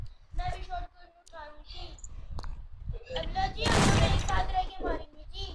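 Shotgun blasts from a Free Fire Clash Squad match sound amid game effects, with a loud burst of fire partway through, and a voice talks over much of it.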